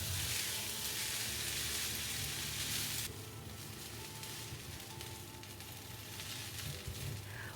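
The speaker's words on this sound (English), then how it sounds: "Give it a good stir so that the soy sauce and the color is well combined." Rice stir-fried in a wok with dark and light soy sauce, a loud hissing sizzle at first that drops to a quieter steady crackle as stirring continues, no voices.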